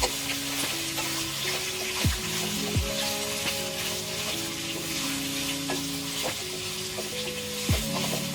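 Chopped onions frying in a pan for a beef kala bhuna, giving a steady, close, full sizzle with a few scrapes and tonal clinks over it, heard alone without talk.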